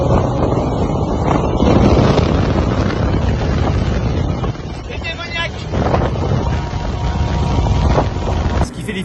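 A motorboat powered by four Yamaha XTO 425 outboard engines roars as it accelerates at sea, a loud continuous drone mixed with heavy wind buffeting on the microphone and brief voices.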